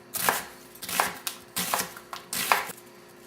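A knife chops an onion finely on a board in quick bursts of crisp strokes with short pauses between them, close up and with no talking.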